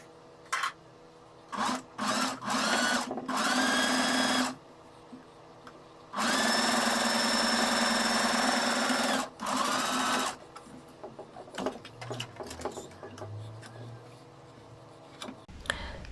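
A sewing machine stitches a fabric seam for a handbag in several bursts of steady whirring, short runs at first then two long continuous stretches, loud and close, with quiet gaps and small handling noises between.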